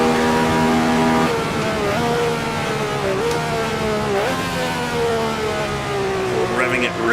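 A 1967 race car in Assetto Corsa at Monza screams at high revs, its engine pitch rising and dropping sharply through gear changes into the Parabolica, while a voice talks over it.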